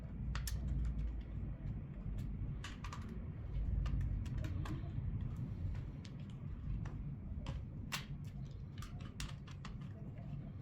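Small screws being unscrewed on a universal tablet cradle make quiet, sparse clicks and ticks of metal and plastic, scattered irregularly over a faint low room hum.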